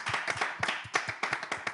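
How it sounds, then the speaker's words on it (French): Radio show applause: a small group clapping at a brisk, slightly uneven rhythm, crisp and close, with no voices over it. "Ça s'acclame."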